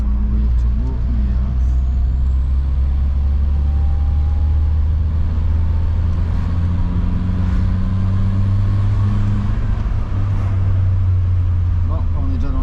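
A Renault Fuego fitted with a Garrett T3 turbo drives in traffic behind a truck, its engine droning loud and steady from inside the car, with a low rumbling hum throughout.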